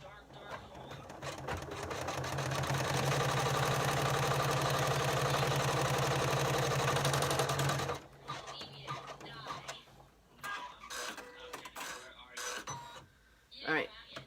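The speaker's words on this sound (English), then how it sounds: "we've stitched down our lining except for an opening here for the stave to turn it" An embroidery sewing machine stitches down the lining of a pouch in one loud, steady run of several seconds, then stops, followed by short bursts of handling and talking.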